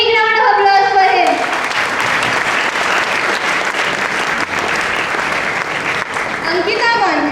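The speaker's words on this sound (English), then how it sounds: "So a big round of applause for him." An audience bursts into loud, sustained applause at a ceremony honouring a performer. Tonal music fades out as the clapping starts and returns over it at the end.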